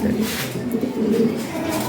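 Low, soft cooing of a large fancy pigeon pair, Lahori Sirazi type, murmurs close by in a steady bubbling rumble, with some background noise and faint voices.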